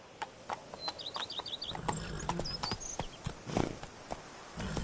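Hoofbeats of Geralt's horse Roach in The Witcher 3: Blood and Wine, a rhythmic clip-clop of a moving horse with birds chirping and whistling faintly in the background.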